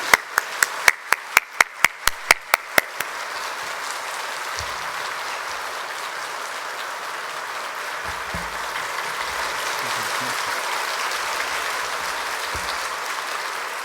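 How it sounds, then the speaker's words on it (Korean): A church congregation at a dawn prayer service claps to welcome a pastor to the pulpit, starting with a few loud, evenly spaced claps before settling into steady, sustained applause that fills the room. "박수를 크게 할렐루야 하면서 우리 목사님께 격려하면서 환영하겠습니다"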